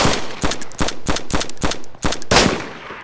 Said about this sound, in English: Are you shooting at me with M4?